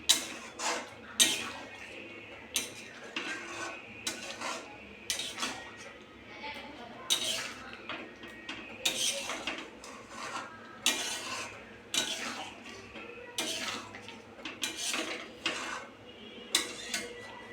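Shahi paneer stirred in a pan, the spoon scraping and clinking against the metal in quick, irregular strokes, close and fairly loud, with a low kitchen hum underneath.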